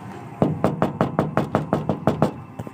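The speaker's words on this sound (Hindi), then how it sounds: "थोड़ी ही देर में मुझे खिड़की के कांच के खटखटाने की आवाज़ आने लगी।" Knuckles rap on window glass in a quick, even series of about ten sharp, close knocks, loud and alone, then trail off.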